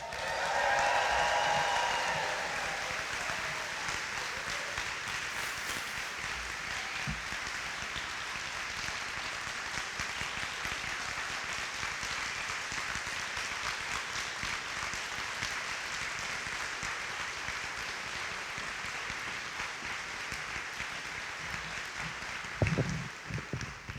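Applause and cheering from the audience at a college fall convocation, a long, steady wash of clapping with shouts early on that holds for over twenty seconds.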